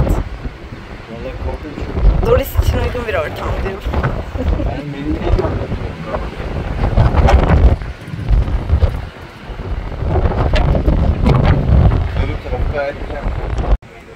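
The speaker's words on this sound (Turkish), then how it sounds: "Biraz rüzgar vardı ama şu an çok fena yani." Strong wind at sea off Elafonisos island, Greece, on a sailboat, roars and buffets the microphone steadily throughout, with low rumbling gusts and a voice faintly audible underneath.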